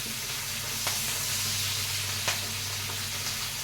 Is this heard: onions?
yes